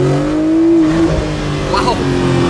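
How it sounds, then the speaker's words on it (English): A car fitted with a Kline Fenyr Super Sport exhaust revs hard from inside the cabin, with a steady engine drone and turbo whooshes over it, loud and close, with a voice talking over part of it. "Turbo noise is great. The whooshes and swoops going on behind."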